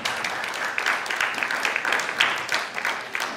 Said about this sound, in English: Big applause for the S people.